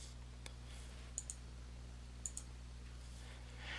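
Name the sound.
computer mouse clicking in Outlook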